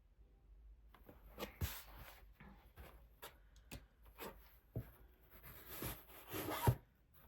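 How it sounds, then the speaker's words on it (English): Zippers on cross-stitch project bags being opened, a series of quick rasping zips and rustles in irregular bursts over several seconds, close and fairly clear with no talking. "I do have quite a few bags to open today, so just to warn you with the zippers"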